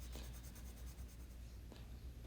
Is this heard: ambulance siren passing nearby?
no